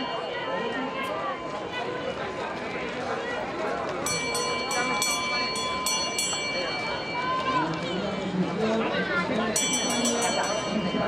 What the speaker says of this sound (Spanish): Suena la campana para los chicos de 60.